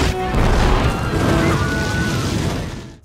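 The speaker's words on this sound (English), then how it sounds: "deep bass during explosions" Film explosions from the Avatar Blu-ray soundtrack roll out as a loud, dense crashing boom with heavy low rumble, sustained for a few seconds before fading sharply at the end.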